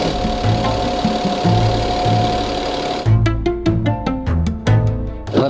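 A BMW 7 Series (G70) engine idles with a steady low drone, then cranks and catches around the midpoint, running with loud, rhythmic knocking pulses.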